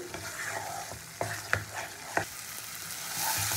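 Masala for a katla fish curry frying in oil, with a constant close sizzle broken by a few sharp spatula scrapes and knocks, the frying growing louder near the end and no voices.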